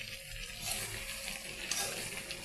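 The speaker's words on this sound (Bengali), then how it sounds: "আর এই যে কলিজাটা একটু কষিয়ে নিচ্ছি" Beef or chicken liver sautéing in a pan for a spiced bhuna, a steady close sizzle with soft stirring scrapes throughout, no voices.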